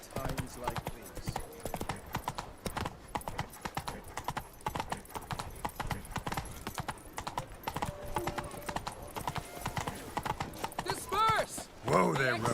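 Geralt's horse Roach clip-clops in The Witcher 3: Blood and Wine, a steady run of close, crisp hoofbeats lasting throughout, with game voices speaking over it.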